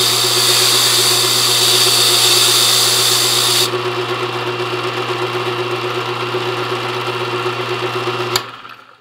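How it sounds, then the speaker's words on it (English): Power tool whirring steadily as a freshly cut key is deburred, a loud continuous grinding hum that winds down near the end with a brief click. "Alright, so we can deburr our key right now."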